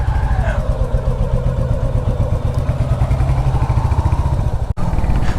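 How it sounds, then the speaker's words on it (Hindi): A Royal Enfield Hunter 350 motorcycle engine idling close by, a loud steady rhythmic thumping putter that continues throughout with a brief dropout near the end. "सुबह से ना अभी मैंने बाइक स्टार्ट करी है"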